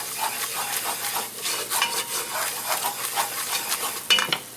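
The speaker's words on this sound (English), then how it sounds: "I'm adding the flour. I don't know how much flour I need until I get it all mixed in." Flour is stirred into a gumbo roux in a pot, a close, steady scraping and soft sizzle with rhythmic utensil strokes and a brief metallic clink near the end, no talking.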